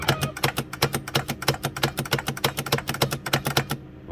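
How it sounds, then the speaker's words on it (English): Virtual pinball flipper contactors actuating in rapid succession, a fast and even train of close, loud mechanical clacks lasting about four seconds with no other sound behind them. "Okay, that's the sound of a contactor."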